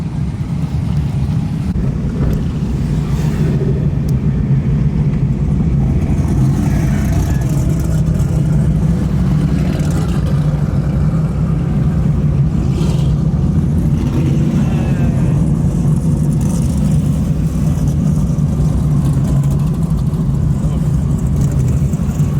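A drag racing car, a Fox body-era build on a record attempt for a six-second pass, roars down the track in one loud, sustained blast of engine noise, with voices faintly mixed into the din.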